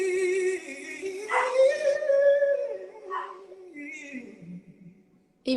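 A dog whines and howls in a drawn-out, wavering tone along with a woman singing a pop ballad indoors, its cries rising and falling under and between her voice.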